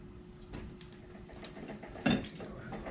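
Egg, buttermilk and vanilla get stirred into muffin batter in a bowl, with faint soft scraping and a few quiet clinks of utensil against the bowl, one sharper knock near the end.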